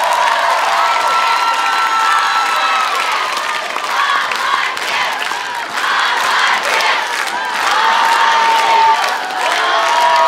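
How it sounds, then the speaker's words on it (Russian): A loud, dense crowd at a Eurovision 2016 semi-final broadcast applauds and cheers continuously, with shouts and whoops rising over steady clapping throughout. "Ваши аплодисменты!"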